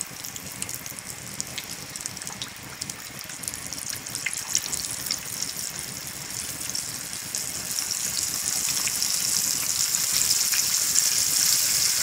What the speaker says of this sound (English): And then I'm going to add the fish to the oil.